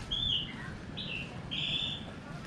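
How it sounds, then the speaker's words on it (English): Birds chirp outdoors in Jakarta, three short high tweets in quick succession, fairly near, over a low background rumble of city noise. "this has a lot of beautiful birds."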